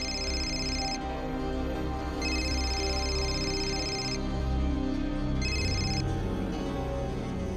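Telephone ringing in a home during a Marathi TV serial scene, repeated electronic ring bursts with short gaps over low background music, no talk.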